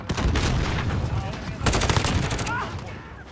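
Rapid gunfire in a first-person shooter video game, with bursts of shots crackling close and loud, a brief lull, then another burst before fading.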